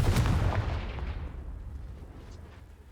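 A Confringo fire spell explodes in Hogwarts Legacy. It lands as a loud, booming blast with a sharp onset, then rumbles and decays over a few seconds.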